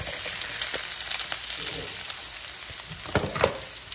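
Onions and whole spices such as cloves and cardamom fry in hot oil for a paneer curry, a soft, steady sizzle with occasional stirring scrapes and crackles.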